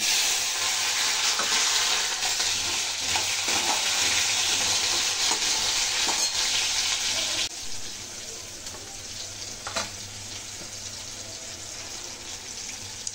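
Panch phoron spices, green chili and tomato frying in oil, a dense continuous sizzle that drops somewhat quieter partway through, with faint stirring scrapes and no talking.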